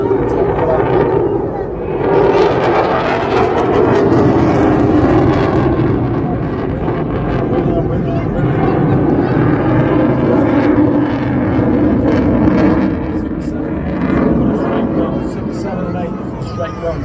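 Typhoon jet aircraft flying overhead at an airshow, a loud sustained roaring rumble that swells and holds for many seconds, with announcer talk heard over it.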